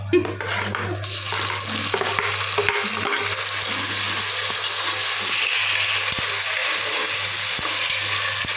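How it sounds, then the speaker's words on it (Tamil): Chopped tomatoes are tipped into a hot pan for chicken biryani, with loud continuous frying and sizzling, scraping stirring and occasional utensil knocks against the pan, and no talking. "இப்போ வந்து நம்ம இந்த பொசிஷனில் வந்து அரிஞ்சு வச்சுருக்கிற டொமாட்டோவை இதில் தள்ளுறோம்"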